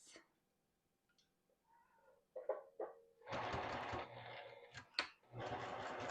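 A home sewing machine stitches white thread through two fabric pieces of a tote bag, its motor whirring in bursts of a few seconds, close and fairly loud, with some handling noise between runs.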